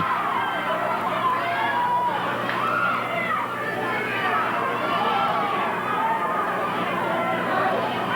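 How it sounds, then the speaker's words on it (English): A crowd at a 1980s Portland wrestling arena, with a roaring, rising and falling mass of voices that sounds like chanting and cheering, continuous and fairly loud throughout. "Crowd taking up the chant of Roddy Piper, Playboy Buddy Rose."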